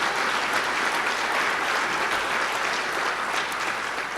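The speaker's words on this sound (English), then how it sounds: "let's give a round of applause also to our young men in the room" A room audience claps for young men at a community event, steady dense applause holding loud and even throughout with no voices over it.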